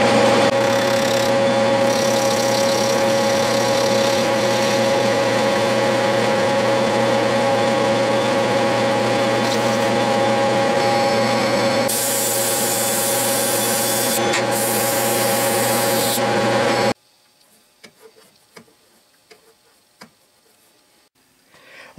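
Milling machine facing and chamfering a brass slug held in a V-block on a Bridgeport mill, a steady loud rubbing, grinding cut that runs continuously with a harsher stretch near the end, then stops abruptly into near silence.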